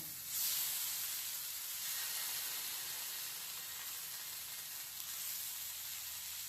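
Spiced paneer cubes fry in a pan, giving a continuous hissing sizzle that swells briefly at the start and then holds steady and close, with no one speaking.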